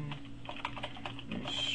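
Typing on a computer keyboard, a quick irregular run of soft close key clicks over a faint steady hum, with no voices.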